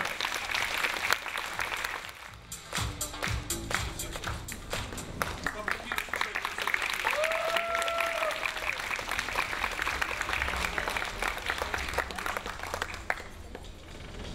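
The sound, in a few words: audience applause at film festival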